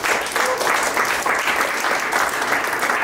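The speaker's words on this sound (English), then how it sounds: "Can we get a round of applause for Mike?" An audience gives a round of applause for Mike, sustained loud clapping from many hands in a hall, steady and unbroken for the whole stretch.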